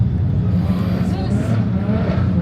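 Drift car at a drag and drift night revs in a loud, near, continuous engine roar with rising pitch sweeps, crowd voices talking over it.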